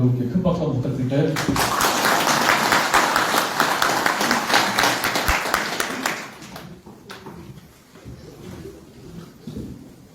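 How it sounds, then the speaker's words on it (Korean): Applause from an audience of local Mokpo journalists at a press conference, a dense wash of clapping building over several seconds and then thinning out, with people talking over it. "큰 박수 한번 부탁드릴까요?"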